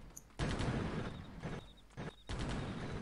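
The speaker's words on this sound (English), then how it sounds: "So I suppose the Blackhawk's gonna continue shooting" Blackhawk helicopter gunfire in the Delta Force game, heard as three sustained rattling bursts of rapid fire separated by short pauses, fairly close and with no voices over it.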